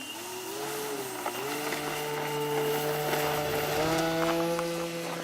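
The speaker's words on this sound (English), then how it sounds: "Okay, taking off from left to right." An electric RC P40 model airplane whines steadily as it takes off, its motor pitch rising and shifting as it accelerates and climbs, loud and continuous throughout.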